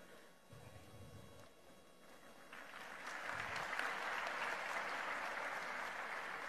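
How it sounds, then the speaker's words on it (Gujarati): An audience in Gujarat applauds to welcome the guest of honour at a foundation-stone ceremony for a community building. Scattered clapping swells into steady, dense applause partway through and holds there, with no talking. "આપણા સમાજના ગૌરવ એવા માનનીય અધ્યક્ષનું તાળીઓ સાથે અભિવાદન કરીએ."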